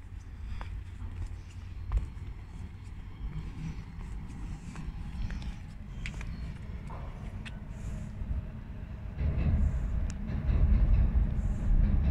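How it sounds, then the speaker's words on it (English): A Javelin high-speed train passes at a distance near a castle in Medway, a steady broad rumble that swells louder toward the end under outdoor ambience. "There's the javelin train going over there."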